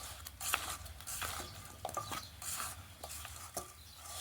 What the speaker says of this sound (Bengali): ছেড়ে দেওয়ার পর ভালো করে একটু নেড়ে চেড়ে মিশিয়ে নেব।